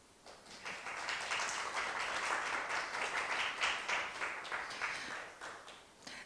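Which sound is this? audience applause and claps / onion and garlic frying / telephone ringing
audience applause and claps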